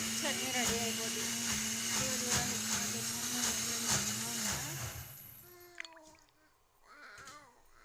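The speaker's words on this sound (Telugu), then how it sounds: "మళ్ళీ మిక్సీ పట్టుకోవాలి" A kitchen mixer grinder whirs loudly as it blends ivy gourd chutney with added water, running steadily for about five seconds before cutting off, after which a voice speaks briefly over quiet room sounds.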